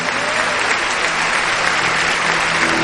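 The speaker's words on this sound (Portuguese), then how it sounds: "Dê uma salva de palmas ao Senhor Jesus Cristo" Steady, loud applause fills a church as the congregation claps for Jesus Christ, a dense continuous roar of hands that holds without a break, with faint musical tones underneath.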